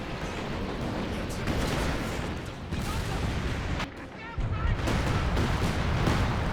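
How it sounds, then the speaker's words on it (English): Mortar shells hit in a Company of Heroes 2 battle, dull booming impacts mixed into a dense, continuous din of gunfire and explosions, with a brief lull midway. "Mortar hits there."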